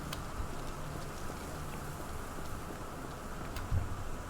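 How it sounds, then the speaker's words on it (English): Rain falls steadily around a gazebo in a Sherlock Holmes video game, a soft, even patter with a few faint ticks and one low thump near the end. "I love the sound of rain so much."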